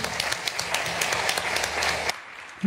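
Audience at a solar thermal energy conference applauds a speaker, a brisk crowd of hands clapping close and steady for about two seconds before cutting off into near silence.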